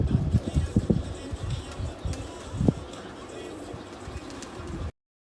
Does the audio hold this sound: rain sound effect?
no